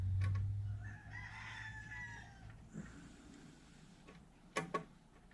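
A rooster crows at a distance, one long drawn-out call near the start, followed by softer clucks and a couple of sharp knocks toward the end.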